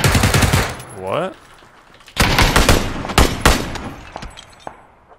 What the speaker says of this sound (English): I stopped shooting because I sprayed right on his head.